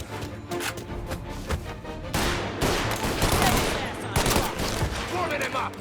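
Gunfire in the video game Mafia Definitive Edition: dense bursts of shots and rapid machine-gun fire rattle loudly and almost continuously, with thuds and crashes mixed in amid the firefight.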